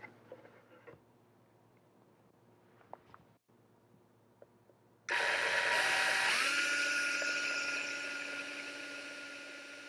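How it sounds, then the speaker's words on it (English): After a few faint taps and clicks, a power drill whirs up loudly and runs steadily, its pitch dropping slightly as it bites into wood, drilling a hole for a wooden peg. "Now we'll show you how to drill for the peg."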